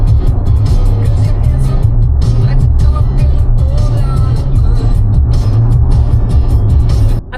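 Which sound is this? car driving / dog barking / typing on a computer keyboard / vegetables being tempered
car driving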